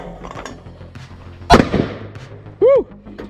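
A single sharp, loud in-game cannon blast rings out amid background chatter at an outdoor scenario game, followed by a decaying rumble and then a brief whistling tone.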